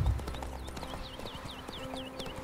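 Horse hooves clip-clop steadily in The Witcher 3 video game, an even trotting rhythm of moderate loudness alongside chirping birds and low game ambience, with no talking.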